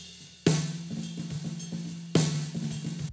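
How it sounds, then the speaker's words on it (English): Processed snare drum in a mix of a song about cats, given a low-end bass boost around 160 Hz. Two loud, punchy hits about 1.7 seconds apart, each with a bright crack and a thick low body, over a steady backing of bass and drums. "The snare drum now sounds like this."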